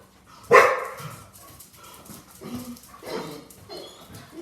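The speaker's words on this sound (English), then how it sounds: "Yeah, you got to hear Lucy's bark" Pet dogs in a home bark, one sharp loud bark near the start followed by softer whimpers and a few muffled yips, close by and without talk.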